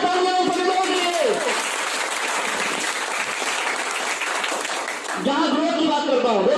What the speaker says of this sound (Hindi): जोरदार तालियां सभी लोगों के लिए।